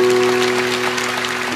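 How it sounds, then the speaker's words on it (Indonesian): A church congregation claps together in steady, close applause during a sermon, with a sustained tonal hum running underneath throughout. "Kasih tepuk tangan untuk Tuhan."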